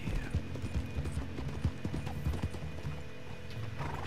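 Galloping horse hooves in a video game, a fast steady clip-clop rhythm running throughout with a brief whinny, set against a dense bed of game background sound.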